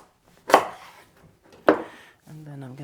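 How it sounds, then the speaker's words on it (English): A knife cutting through a pumpkin in half, two sharp, heavy chopping thuds about a second apart, close and loud, followed by a voice speaking. "So I'm just going to cut it in half."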